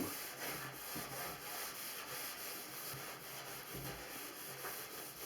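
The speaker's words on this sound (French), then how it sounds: "Et on frotte, on frotte, on frotte, on frotte, on frotte." Steel wool with toothpaste scrubs a sink in one direction, a faint, continuous raspy rubbing with soft repeated strokes and no voices.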